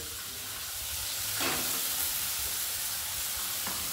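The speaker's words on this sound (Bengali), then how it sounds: "মা এটা নাড়াচাড়া করছে" Chillies fry in a pan while being stirred for a spinach dish, giving a steady loud sizzle with brief scraping stirs, no voices over it.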